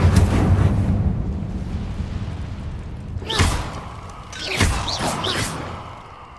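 A fire spell cast in the Hogwarts Legacy video game bursts out twice in quick succession, each a sharp whooshing blast over a steady low game rumble, with brief bright flaring tails after the second.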